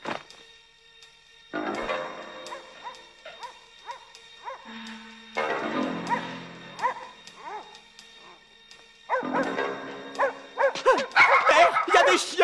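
Several dogs bark, yip and whimper in repeated excited bursts that grow denser toward the end, close and fairly loud, with little else around them.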